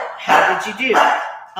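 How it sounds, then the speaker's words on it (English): A dog barking nearby in a home, a few short barks under a person talking. "that's my dog barking."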